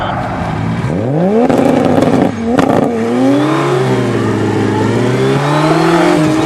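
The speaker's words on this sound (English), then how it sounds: "this black Supra has enough power to break the wheels loose at about 40 miles an hour, both wheels" Black Toyota Supra doing a burnout starting from around 40 miles an hour, its engine roaring and climbing in pitch as both wheels break loose, then holding a loud sustained high-revving wail, no clear talk.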